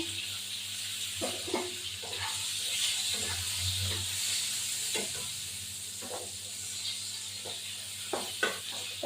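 Eggplant pieces fry lightly in hot oil for a hilsa and eggplant curry, giving a soft continuous sizzle broken by occasional faint clicks and stirring taps.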